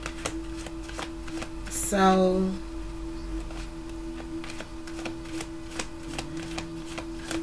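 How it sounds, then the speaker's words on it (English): A deck of tarot cards is shuffled in a steady run of soft, close papery flicks and taps, while a brief voiced sound briefly rises over the shuffling. "I'm just shuffling."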